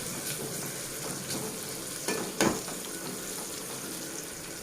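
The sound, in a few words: tomatoes and green chillies frying in a pan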